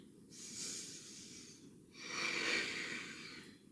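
A slow, deep yoga inhale drawn through the nose, soft and close, rising in two long breathy swells with a brief pause between them.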